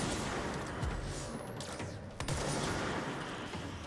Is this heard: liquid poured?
no